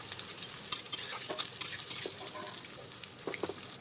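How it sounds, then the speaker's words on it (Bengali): Onions fry in oil in a wok while a spatula stirs them, giving a close, continuous sizzle broken by frequent scraping and clinking strokes. "দিয়ে লাড়তে লাড়তে লাল লাল ভাজা ভাজা হয়ে আসবে।"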